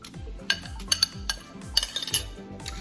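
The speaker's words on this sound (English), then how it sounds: "I'm just going to spread these over in the baking dish" Cut radishes tumble and clink against a metal baking sheet as they are spread out, a string of irregular light taps and rattles close by with no talking.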